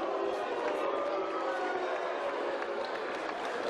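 A boxing arena crowd applauds and cheers WBF International titleholder Omar Siala in a dense, continuous wash of clapping and crowd noise, fairly distant and even throughout.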